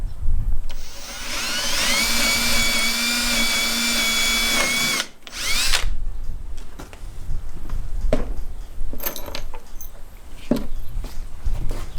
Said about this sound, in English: I am going to put a couple of screws on either side here, about in the middle.